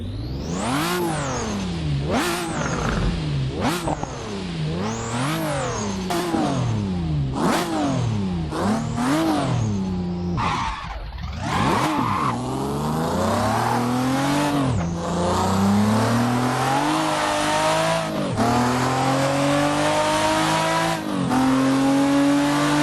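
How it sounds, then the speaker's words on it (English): A drift car from a Japanese car pack in Assetto Corsa, with almost 700 horsepower, revs hard again and again, its engine pitch sweeping up and down in sharp repeated bursts, loud and close with no talking. "We're going to move on here to the drift version of the car, so have a listen"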